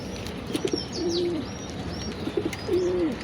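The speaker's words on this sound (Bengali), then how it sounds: "বেশিরভাগ কবুতরই মল্টিংয়ে ঠিক আছে এই কারণে সব কবুতর দাপিতে দিয়ে দিয়েছি" Pigeons cooing in a loft during the moulting season, several soft rolling coos repeating at a steady rhythm, close by, with faint bird chirps and a little wing movement in the background.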